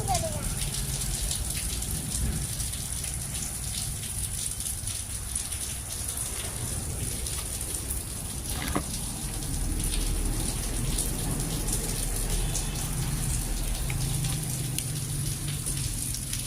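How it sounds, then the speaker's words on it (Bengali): Heavy rain falls in a steady, hissing wash with occasional spattering drops and a low rumble underneath, fairly faint. Voices come and go softly beneath the downpour. "কিরম পানি হয়েছে, কত বৃষ্টি হয়েছে।"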